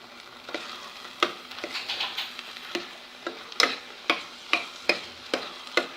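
Tomato-coconut pachadi boiling in a pot, giving a steady bubbling hiss broken by sharp pops and bursts roughly every half second, close and moderately loud with no talking.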